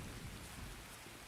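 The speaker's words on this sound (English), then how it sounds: "This rain's so loud." Steady, loud rainfall in the shooter Escape from Tarkov, a dense hiss of rain on surfaces with a low rumbling undertone, continuous and alone with no voices.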